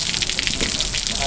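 Running water gushes loudly and steadily from close by in a brief, unbroken hiss and splash.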